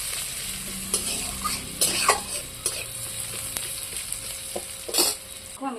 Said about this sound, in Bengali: এবার আছে কাঁচা পেঁয়াজ পেঁয়াজটা বেশ সুন্দর করে ভেজে নেব